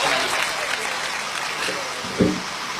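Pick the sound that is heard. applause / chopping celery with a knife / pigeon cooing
applause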